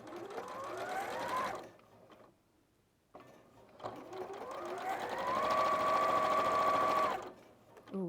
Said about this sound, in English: I'm going to do a little lock stitch to begin.